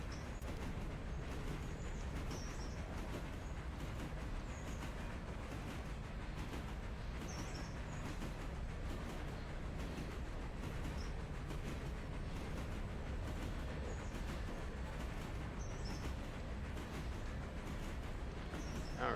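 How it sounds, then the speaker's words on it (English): A train runs in the railway video game Railroader, giving a steady, even rumble with faint chirping sounds layered above it. "We're driving the train ourselves."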